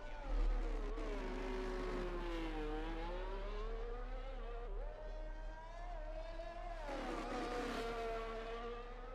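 An F1 car engine screams on the Singapore track in the racing game F1 23, a continuous high-pitched whine that rises and falls through gear shifts and revs, loud and alone.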